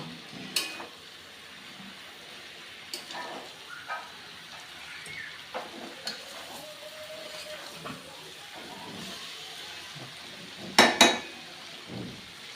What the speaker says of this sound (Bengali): আমি ফুলকপিগুলো আলুর সঙ্গে খুব ভালো করে কষিয়ে নেব